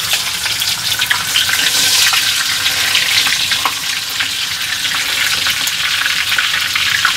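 Rat meat fries in a pan with a steady, crackling sizzle that stays loud and close throughout, with no talking.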